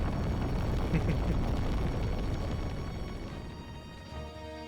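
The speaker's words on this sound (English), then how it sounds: "Explosion." A big explosion in Final Fantasy Tactics, a loud sustained roaring blast that fills the first seconds and slowly fades, with a musical tone emerging at the end.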